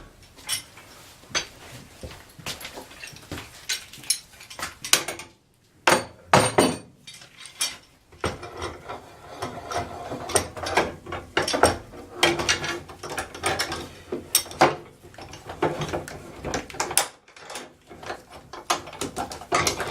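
C clamps are fitted and tightened onto a homemade gymnastics bar, giving a close run of irregular metallic clicks, ratcheting turns and clunks with brief pauses, with no talking.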